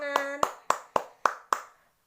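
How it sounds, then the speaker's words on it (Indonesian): A primary school maths class clapping for a group that has just presented: six crisp, evenly spaced claps sound close and loud, with a short voiced note at the start, then silence. "Beri tepuk tangan kepada kelompok yang sudah mempresentasikan hasil pekerjaannya."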